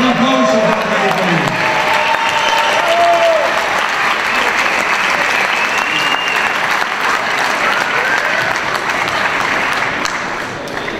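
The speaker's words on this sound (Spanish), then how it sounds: "gran aplauso para Cali" Big round of applause from an audience at an event, a dense, loud wash of clapping with crowd noise that holds steady for about eleven seconds, with a few voices briefly audible near the start.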